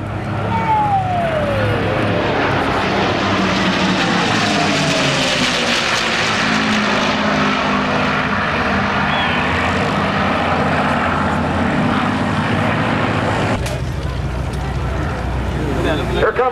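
Propeller engines of P-51 Mustang fighter planes flying in formation at an airshow, a loud, sustained roar that swells and shifts in pitch as the aircraft pass, with an announcer talking over it.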